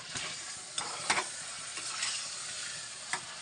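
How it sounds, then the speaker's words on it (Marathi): Agri-style mutton frying in a pan and being stirred, a steady sizzle with scraping stirs and a few sharp clinks, fairly faint and without talk. "आता त्याला हलवते मी."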